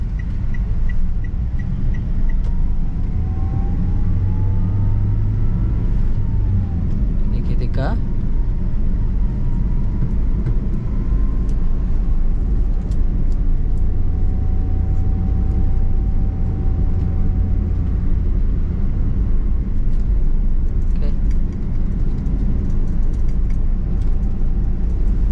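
Interior of a Toyota Calya on the road as the driver adds throttle in second gear, a loud steady engine drone with rising tones beneath it, while a person talks over it.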